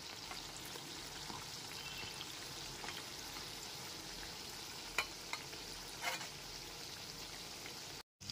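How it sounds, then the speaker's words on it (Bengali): Khaja pastries deep-frying in oil over a low gas flame as they are turned from one side to the other; a steady, even sizzle runs throughout, with a few soft taps and clicks near the middle and a brief cut just before the end. "গ্যাসের ফ্লেমটা লোতে রেখে ঠিক এইরকমভাবে লাল করে ভেজে নিয়েছি এপিট ওপিট উল্টে"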